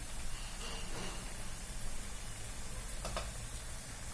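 Wheat flour gavvalu fry in hot oil with a dense, continuous sizzle that stays steady throughout, close and fairly loud, with no voices.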